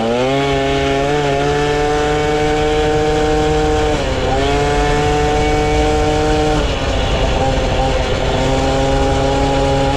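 An MBK 51 moped fitted with an S-Race exhaust revs up loud and close, its buzzing two-stroke engine rising in pitch and dipping between gears over a steady roar.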